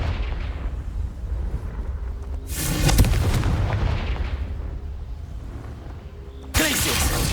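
Confringo explosive spell going off in Hogwarts Legacy during combat, two sharp loud blasts about four seconds apart, each followed by rumbling debris over a low game background.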